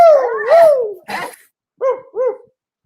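A dog whimpering and yipping up close, a long wavering whine followed by a short burst and two brief high whimpers.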